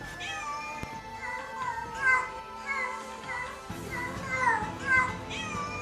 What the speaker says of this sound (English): Wait, is that a cat?